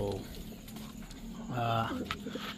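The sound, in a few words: pet birds cooing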